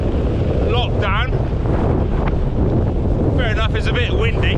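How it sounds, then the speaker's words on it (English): Steady wind buffeting a microphone while riding an electric unicycle on a sunny day, a loud continuous low rumble throughout, with brief bird-like chirps or squeaks in places. "it's a bit windy"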